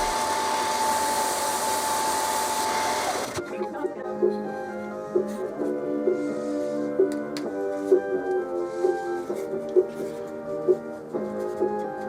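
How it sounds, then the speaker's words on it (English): A belt sander grinds a teak wedge to an angle for a pallet-wood mallet, giving a loud steady whir for about three seconds before the sound cuts to tonal music. "I held it at an angle on the belt sander"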